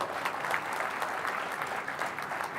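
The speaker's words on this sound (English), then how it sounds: "So, big round of applause." A large audience claps steadily at a national awards ceremony, a brief, continuous round of applause at even loudness with no voices over it.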